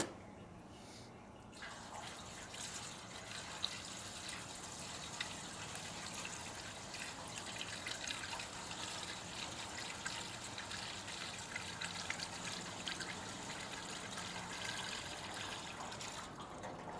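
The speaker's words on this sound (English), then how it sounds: "So we will pour some fuel in it and see if she works." Fuel pours steadily into the tank of a forced air heater, a continuous liquid trickle and gurgle that runs throughout at moderate level with no talk over it.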